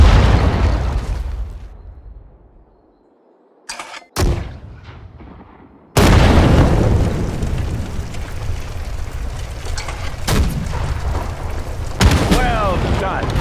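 Artillery shells explode in the Sudden Strike 4 World War I Battle of Ypres mission, a string of loud, heavy blasts with abrupt onsets, several booms landing in quick succession and rumbling away between them.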